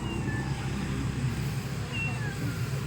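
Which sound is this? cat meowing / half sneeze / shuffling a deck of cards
cat meowing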